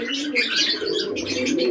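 Pigeons in a loft during the monsoon season, giving a brief burst of close, overlapping cooing and soft chirping with no talk.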